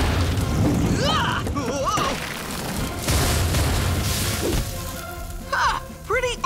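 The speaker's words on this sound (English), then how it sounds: "Hope the kid likes fireworks." Cartoon fireworks bursting in West Potomac Park in a Ben 10 scene, loud booming explosions and crackling throughout, with characters' voices and an exclamation over the blasts.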